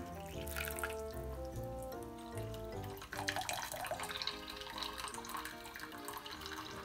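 Dashi broth made from kombu and bonito flakes dripping through a paper-lined colander, a continuous gentle trickle and drip with no speech.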